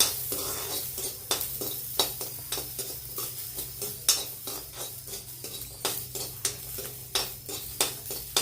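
Garlic and ginger roasting in a little oil in a pan, a soft sizzle under repeated sharp scrapes and clinks of a spoon stirring against the metal, close and rhythmic.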